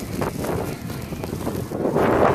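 Strong blizzard wind in New York's Hudson Valley, buffeting the microphone as a loud, continuous rushing roar with gusty swells.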